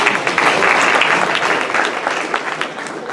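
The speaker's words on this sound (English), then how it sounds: "That is something we should all give ourselves a round of applause for that" An audience claps together for members honoured with a Paul Harris recognition; dense, steady applause fills the whole three seconds and eases only slightly toward the end.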